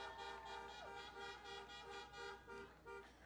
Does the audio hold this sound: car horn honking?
yes